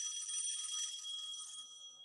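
A telephone bell rings faintly with a steady high metallic trill that fades toward the end, alone with no talk.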